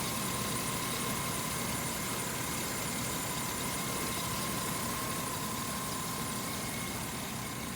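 A 2009 Hummer H3T Alpha engine idles with a steady, even rumble and a constant hum, close by and unbroken, with no talk over it.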